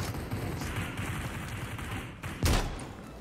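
Gunfire rattles in the battle royale video game Super People, a continuous distant fusillade with one louder, sharp nearby shot near the end.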